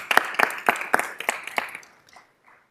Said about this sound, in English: a round of applause for all those employees